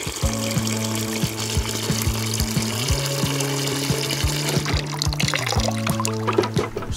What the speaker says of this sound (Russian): Набираем доверху водой.